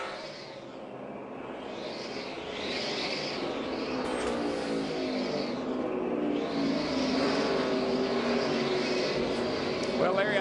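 Several NASCAR Sprint Cup stock cars race at Phoenix International Raceway during the 2012 Subway Fresh Fit 500, their engines a steady, loud roar that rises and falls as they pass, with a commentator talking over the noise throughout.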